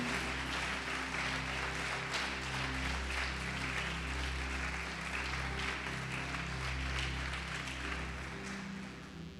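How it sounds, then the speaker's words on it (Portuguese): Church congregation clapping steadily over a sustained low instrumental drone, moderate in level and continuous throughout. "Pode aplaudir e glorificar o Senhor"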